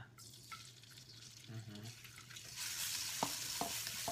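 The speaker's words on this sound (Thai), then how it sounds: "ผัดไปนะคะให้มันหอมๆนะคะ" Garlic stir-frying in hot oil in a Thai home kitchen, a soft sizzle that swells louder in the second half with a few spatula scrapes and taps, fairly faint and close, with brief voice-like sounds early on.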